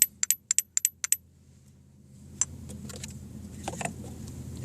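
Sharp metallic knocks from a loose rear suspension part on a 2001 VW Jetta being tapped, about seven quick close raps in a row, then softer scattered clunks over low background noise.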